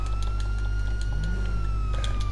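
A police car siren switched on in a driving game after a truck chase, a rising wail over a loud, constant engine drone, close and prominent.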